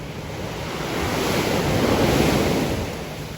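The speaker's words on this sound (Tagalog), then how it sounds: "Sarap sa tainga ng hampas ng alon" Ocean surf rolls and washes onto shore in a continuous broad roar that swells toward the middle, with wind buffeting the microphone.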